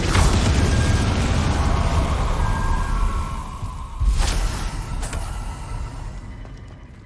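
In the video game Hogwarts Legacy, the Confringo fire-blast spell lands as a loud rumbling burst that fades slowly, then a second blast strikes a few seconds later and trails off.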